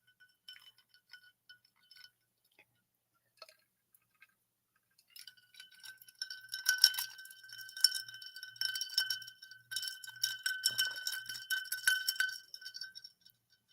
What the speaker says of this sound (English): There's your wind chimes, Summer.